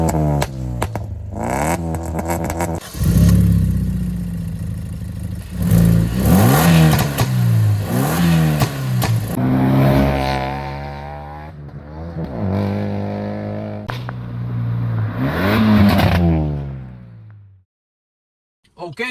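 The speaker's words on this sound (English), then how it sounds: "let's start driving this extremely modified Type 3 2022 petrol manual Swift" A modified 2022 Maruti Suzuki Swift with a petrol engine and manual gearbox revs hard while driving, climbing through several sharp rising sweeps with gear changes between them, loud and close, before cutting out abruptly near the end.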